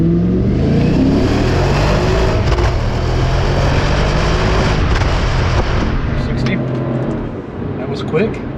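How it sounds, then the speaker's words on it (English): The 4.2L V8 of a 2004 Maserati Cambiocorsa coupe revs hard in first gear, a loud sustained engine roar with rising and falling pitch heard from inside the car, easing off near the end. "Bring it down maybe into first gear. There we go, and let that V8 sing a little bit."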